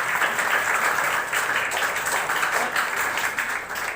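Audience applauding at a school foundation day ceremony in a hall in Kohka, Bhilai, a dense, steady wash of clapping that holds at an even level throughout, with no voices over it.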